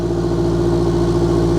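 Turbocharged 2022 Subaru BRZ engine running just after a cold start, a steady loud idle with a deep even drone and faint rhythmic pulsing, alone and unbroken throughout.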